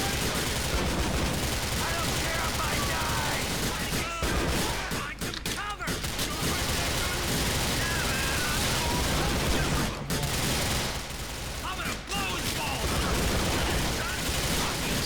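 Gunfire from a shootout in the video game GTA IV: The Lost and Damned, dense bursts of shots and blasts that run nearly nonstop at steady loudness, with brief lulls around the middle and a voice talking over part of it.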